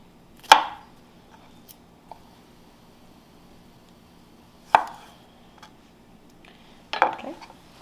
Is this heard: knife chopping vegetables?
yes